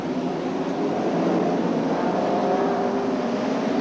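Finely tuned racing cars thunder away from the start of a quarter-mile oval, engines roaring together. The roar is dense and steady and swells slightly as the field pulls away.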